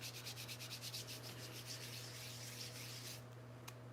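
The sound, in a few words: grinding up a mixture for a protection spell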